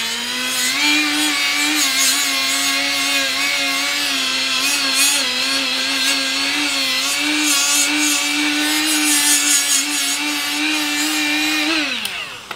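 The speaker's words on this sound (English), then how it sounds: "These are some Scotch-Brite pads, and it makes cleaning up old machines really easy." Die grinder fitted with a Scotch-Brite pad cleaning the surface of an old milling machine, running with a loud, steady, close high-pitched whine that shifts slightly under load and then winds down at the end.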